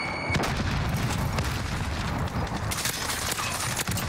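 Dense gunfire and explosions from a Call of Duty Warzone match, continuous loud rattling shots and booms with no pause across the few seconds.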